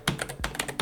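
Mechanical keyboard keys clicking and clacking in quick bursts of sharp, close taps with brief pauses, no talk over them.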